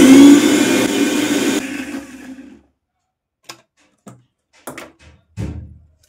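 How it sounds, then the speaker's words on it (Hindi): A kitchen mixer grinder whirs loudly, then winds down and stops; a few sharp clicks and knocks follow in the quiet. "तो यहाँ पे मैं मिक्सी चला रही थी"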